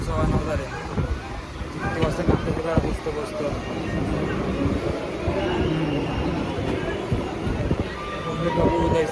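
A Mumbai suburban train runs on the rails near Dahisar, a loud, steady rumble of wheels and carriages filling the whole clip with faint clatter and some distant voices.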